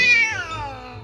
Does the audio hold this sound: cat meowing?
yes